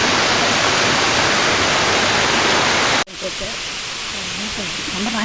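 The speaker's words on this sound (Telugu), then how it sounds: "జలపాతం దగ్గరకు చేరుకోగానే ఎత్తైన పెద్ద బండల మధ్య నుంచి జలపాతం వేగంగా" Rampa waterfall in a green, tree-lined forest setting, water rushing hard between tall, large rocks, a loud dense roar filling the first three seconds, then a sudden cut to a quieter, softer stretch of flowing water.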